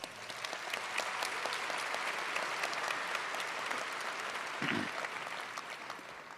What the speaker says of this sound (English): Give yourselves a well-deserved round of applause.